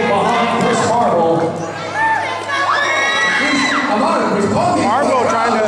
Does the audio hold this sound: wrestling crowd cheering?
yes